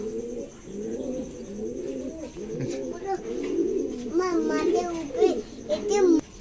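Pet pigeons coo repeatedly as they emerge one by one from an opened coop, with soft throaty calls close by, some chirps mixed in, and a person talking throughout.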